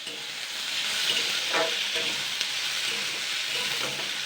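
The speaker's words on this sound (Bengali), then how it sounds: "জাস্ট আমি এটাকে এক মিনিট নাড়াচাড়া করে নেবো আলুটাকে" Potatoes stirred while frying in a pan, a steady sizzle of hot oil with scraping spoon strokes at intervals, close and continuous.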